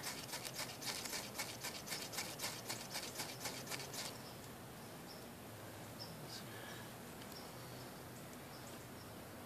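A fire starter scraped repeatedly on wet wood, a quick run of sharp rhythmic rasping strikes for about four seconds, then only faint outdoor background with a few small ticks.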